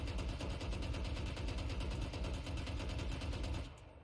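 Continuous rapid gunfire from a VALORANT character shooting while running, a steady dense rattle of shots that holds at even loudness before cutting off near the end, with no voices.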